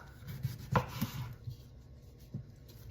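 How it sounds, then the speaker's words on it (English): Knife chopping the ends off a cucumber, a few sharp, close cuts on a board in quiet surroundings. "We're going to chop off the top"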